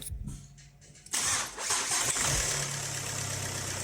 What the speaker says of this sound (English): This is the first time when I started the engine.